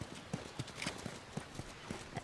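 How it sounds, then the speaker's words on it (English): Horse hooves clip-clop at a steady walking pace in The Last of Us, a string of evenly spaced, moderately close thuds over a quiet ambient bed at a hydroelectric dam settlement. "You guys have horses. We got a whole lot of them."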